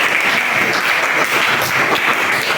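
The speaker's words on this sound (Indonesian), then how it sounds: "Baik, tepuk tangan untuk kita." Applause from an audience of teachers and students in a classroom, steady dense clapping held evenly throughout at close range, with no talk.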